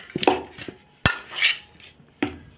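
Taro is stirred in a cooking pot with a few distinct metallic clanks and scrapes of a utensil against the pot, spaced out and close by, with no speech.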